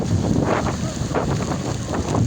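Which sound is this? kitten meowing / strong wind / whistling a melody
strong wind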